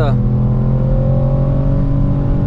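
A Ford Puma ST engine braking hard while downshifting to third, starting with a brief rising rev blip, then a loud, sustained engine drone and exhaust rumble from inside the car.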